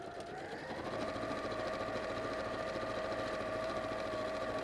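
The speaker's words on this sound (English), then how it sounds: "So I'm just sewing down both the sides of the pocket" A sewing machine runs steadily to stitch down both sides of a satchel pocket, giving a close, even mechanical whirr with a fast regular stitching pulse and no talking.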